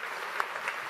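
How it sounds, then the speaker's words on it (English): A crowd at a Frontier Expo main stage presentation applauds, a short, moderately loud burst of clapping from many hands, with no clear speech. "So please, a huge round of applause for David Braben and Johnny Watts."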